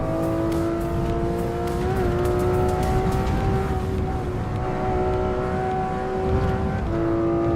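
A BMW laps the Green Hill track in a driving simulator game, its engine whining at steady high revs with small shifts in pitch, tires faintly scrubbing, continuous and close throughout.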